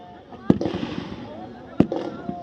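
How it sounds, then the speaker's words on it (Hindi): Gunfire at a military demonstration of robotic mules fitted with a Tavor gun: two sharp, loud reports about a second apart ring out over a running voice and background commotion. "दुश्मन ने फायर खोल दिया है और हमारे रोबोटिक म्यूल इसका जवाब देंगे।"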